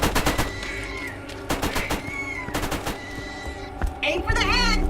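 Rapid bursts of turret gunfire in Borderlands, loud and close, with repeated sharp shots clustered at the start and scattered through the rest, ending in a rising electronic warble.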